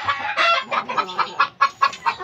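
A flock of breeding hens at a gamecock farm clucks and squawks close by, with overlapping calls early on giving way to separate, punchy clucks.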